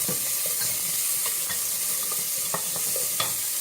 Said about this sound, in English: Go ahead and saute that.